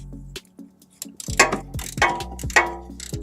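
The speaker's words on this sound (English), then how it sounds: "Now we're going to remove the tow hook, but we'll go ahead and start with the 2 17mm bolts. And last, the 2 14mm bolts." A ratchet wrench loosens the 14mm tow hook bolts on a 2003 Subaru Forester, giving quick, close, metallic clicking in short bursts with brief pauses between strokes.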